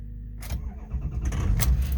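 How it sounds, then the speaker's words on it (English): A cold 2003 Ford F250 FX4 Lariat with the Powerstroke diesel cranks briefly, then fires and catches into a close, rumbling low idle, with no talking. "Truck fires right up."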